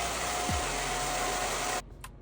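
Hair dryer blowing steadily and loudly on a lace wig in a salon, a broad continuous rush that cuts off abruptly near the end, leaving a quiet room.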